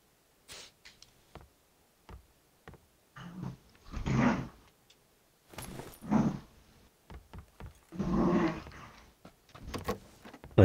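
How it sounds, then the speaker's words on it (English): A dog makes a series of short, close growling and whimpering vocal bursts. They come in uneven clusters separated by brief pauses, with the bursts growing longer toward the end. "A dog you got, dude?"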